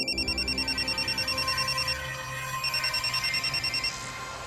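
An outgoing phone call rings through in a repeating electronic pattern, pulsing in two bursts with a short gap, heard over a low background music bed.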